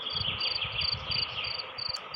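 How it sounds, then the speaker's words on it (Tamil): Crickets chirp in steady, overlapping high trills that run continuously and fairly loud, with no voices. "லில் கிரிக்கி இப்போ நிறையா வந்துடுச்சு பார்த்தீங்களா."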